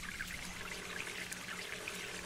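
Water being collected in the video game Sheltered, a soft continuous pouring trickle, fairly quiet and steady with no talking over it.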